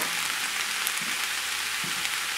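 Chicken sausage sautéing together with vegetables for an okra filé gumbo, giving a soft, even sizzle and faint crackle throughout with a few light bumps, close and steady.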